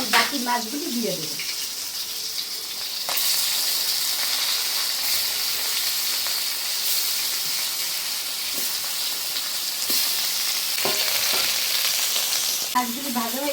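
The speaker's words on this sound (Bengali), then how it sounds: "মাছগুলি ভাজা হয়ে গেছে, এখন তুলে নেব" Batches of fish frying in oil at home give off a dense, continuous sizzle and hiss with a few light clinks of a spatula, loud and close throughout.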